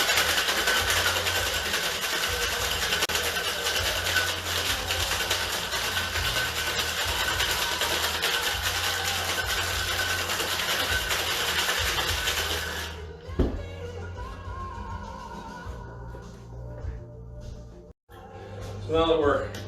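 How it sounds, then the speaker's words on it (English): A cocktail shaker packed with ice is shaken hard while mixing a Devil's Handshake drink, giving a loud, steady rattle for about thirteen seconds before it stops, followed by a few scattered clinks. "Hit the shaker with some ice."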